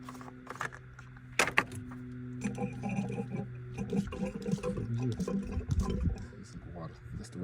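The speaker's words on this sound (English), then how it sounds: "Let me fill my jug back up." Water poured into a jug while servicing a 6th gen Camaro SS, a running liquid fill under talk, with a brief metallic clatter early on.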